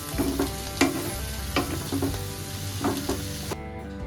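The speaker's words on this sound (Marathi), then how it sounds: "अगदी अर्ध्या टीस्पून बटरमध्ये मी हे सगळं परतून घेतलेलं आहे" Vegetables with corn sauté in half a teaspoon of butter, a steady close sizzle punctuated by several sharp clicks and scrapes of a spatula stirring in the pan.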